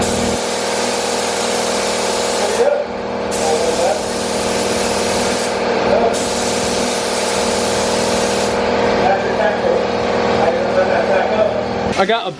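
Spray gun laying a light first coat of paint on an S13 240SX body, with bursts of broadband hiss that start and stop in passes over a steady compressor or engine drone, while someone talks throughout.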